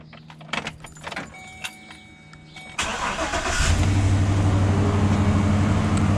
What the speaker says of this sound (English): And the engine does start.